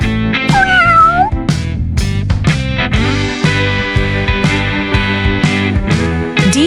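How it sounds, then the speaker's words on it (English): A cat gives a couple of drawn-out, rising-and-falling meows at the start, loud and close, over bright playful backing music that continues alone afterward. "C is for cat."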